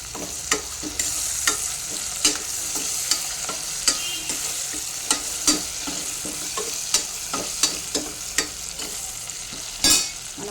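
Green chillies go into a pan of mutton curry, which sizzles and fries loudly up close, with repeated stirring clinks and scrapes at an uneven rhythm throughout.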